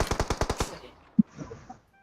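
A rapid burst of about seven automatic gunshots in PUBG Mobile, loud and close, followed by a single distant shot and fainter game sounds fading out.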